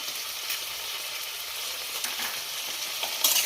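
Vegetables with ginger-garlic-chili paste frying in a pressure cooker, giving a soft, steady sizzle with occasional light stirring clicks. It is fairly quiet throughout, with no speech.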